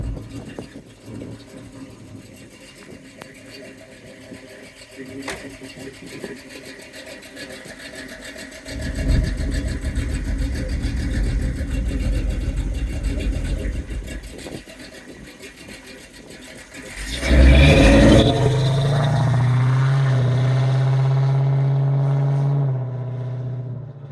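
A restored 1976 Pontiac Trans Am with a 428 engine and Turbo 400 transmission idles in a low rumble, then revs harder mid-way. Near the end a loud surge settles into a steady higher drone, with faint voices.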